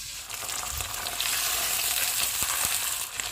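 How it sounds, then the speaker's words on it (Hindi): Chopped ginger and garlic fry in hot oil in a pan with tomato paste for chicken shashlik gravy, giving a steady close sizzle with faint stirring scrapes. "ऑयल गर्म हो गया, इसमें हम चॉप किया हुआ अदरक और लहसुन डाल देंगे। इसको हम 1-2 मिनट तक फ्राई करेंगे।"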